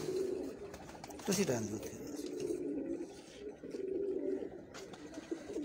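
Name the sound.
pigeons cooing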